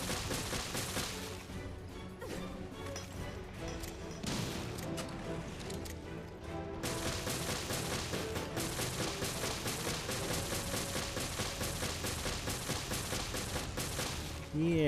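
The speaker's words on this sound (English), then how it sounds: "I just keep on shooting her until she dies" Sustained, dense gunfire in Resident Evil Revelations Trench Raid mode as a player keeps shooting a female enemy until she dies, loud overlapping shots with crashing impacts, a brief thinner stretch early on, then an unbroken fusillade.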